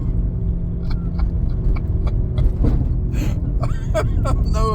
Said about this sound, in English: I will insert the video of me driving this car here. Oh, listen to it.